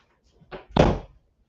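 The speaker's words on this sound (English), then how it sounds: "Let me close the door." An office door swings shut nearby. A light knock comes first, then a heavier wooden thump as it closes, and both fade into quiet.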